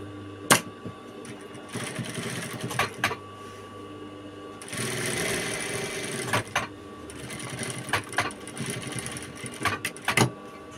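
A sewing machine stitches a men's suit vest in bursts of fast rattling whir, close and moderate in level, separated by short pauses and sharp clicks of handling.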